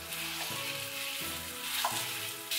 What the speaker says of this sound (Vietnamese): Sau khi dầu nóng thì mình sẽ cho một nửa số thịt này vào, mình xào đều.